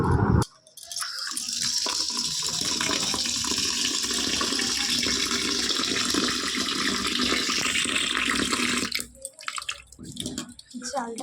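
Biryani rice being washed by hand in a pot or bowl, with water pouring and sloshing steadily and close for most of the stretch, then quieter splashes and drips near the end.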